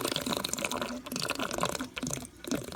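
A reef aquarium's return pump hose back-siphons water into the sump, giving a steady gurgling, trickling wash of moving water close by with brief dips, while a person talks over it.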